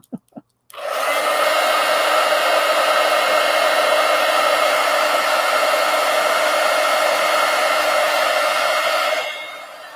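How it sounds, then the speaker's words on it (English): A decades-old Marvy Cheetah heat gun dries painted art cards, blowing with a steady, loud whooshing hum for about nine seconds after a few brief clicks, then winding down. "Those of us that have had these 25-year-old heat guns, I don't know that they've ever broke."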